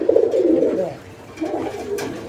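A male pigeon coos twice, low and throaty, the second call following a brief pause, close by and fairly quiet over a faint background.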